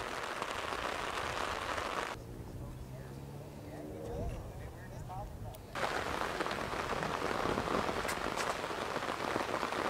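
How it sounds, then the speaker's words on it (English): Heavy rain pours on an outdoor disc golf course amid strong wind, a dense roaring hiss that briefly thins to lighter patter with faint voices before surging back loud. "the wind and rain gets even worse here by the moment"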